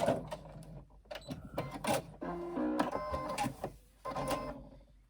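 Sewing machine running in short bursts while stitching a row across the edge of a handbag strap just above a slit opening, with rapid mechanical whirring between pauses and handling.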